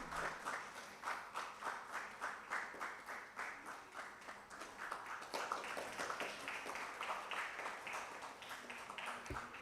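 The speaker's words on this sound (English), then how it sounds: "So requesting have a big round of applause for this cheerful moment." An audience at a Berhampur University ceremony gives a sustained round of applause, dense clapping holding steady for several seconds at a moderate distance in a large hall.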